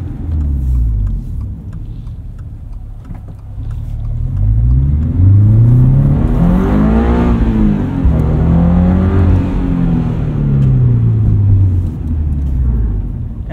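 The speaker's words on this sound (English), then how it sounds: "A little bit more Subaru rumble." Subaru BRZ flat-four engine with a catted UEL header rumbling and revving, the burbling exhaust rising and falling loudly and continuously over several seconds, no voices.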